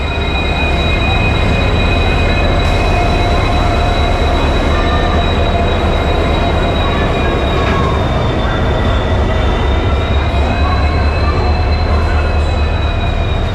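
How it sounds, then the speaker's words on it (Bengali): The Shalimar Puri Jagannath Express, hauled by locomotive 12421, rolls into platform one at a station, a loud sustained rumble of wagons with long high-pitched wheel squeals running through it, heard up close. "এখন এক নম্বর প্ল্যাটফর্মে শালিমার পুরী জগন্নাথ এক্সপ্রেস এসে পৌঁছালো"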